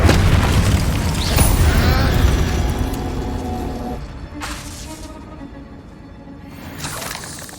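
A loud booming burst of fire from the Incendio spell in Hogwarts Legacy, a heavy blast that rumbles and crackles before fading, with a second softer swell of flame near the end.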